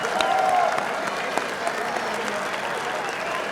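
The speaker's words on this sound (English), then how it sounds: "a big round of applause, please, for both of the fighters in this cage" Steady crowd applause fills a mixed martial arts venue for both fighters in the cage after a professional bout, a dense wash of clapping heard from a distance with a brief whistle near the start.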